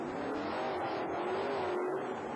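A rear-engine Chevrolet monster truck at a 1991 USHRA show in Roanoke, Virginia, roars with a loud, continuous engine drone that climbs slightly in pitch, an arena-style recording.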